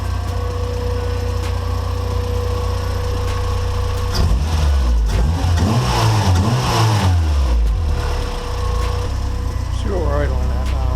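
A Honda car engine idles steadily after warm-up, following a repaired vacuum leak that had caused a high idle and surging, with a low continuous hum, a brief swell in the middle and people talking over it.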